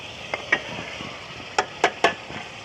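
Tomatoes dropped into a pan of frying spices over a strong flame, giving a few sharp clattering splats and scrapes against a low steady background sizzle, with no talking.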